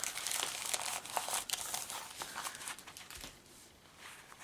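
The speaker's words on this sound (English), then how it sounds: "So everything comes shrink wrapped all together with your" Shrink-wrap plastic around a paper craft kit crinkles and tears in quick, soft bursts as it is pulled open up close, with no talking.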